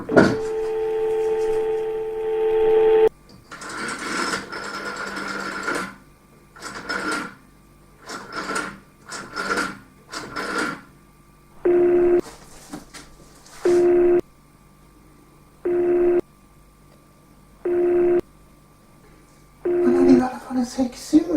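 A telephone is used to call 90 000: a steady dial tone, then a run of dialing sounds in uneven bursts, followed by evenly spaced ringing tones about two seconds apart, clear and close.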